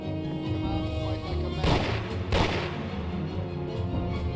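Gunfire in the Mafia video game, with two sharp bursts standing out over a steady, dense background of game ambience and rumbling.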